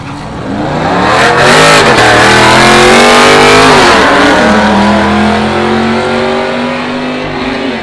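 A Hyper Street class drag racing car launches hard at Willowbank, the engine roaring loud and close with rising revs and gear changes, then fading slightly as it pulls away down the strip.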